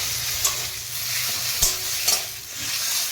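Taro leaves (kochu shak) sizzle softly in a pan while being stirred, with a few sharp scraping strokes of the utensil standing out over the low, continuous frying hiss.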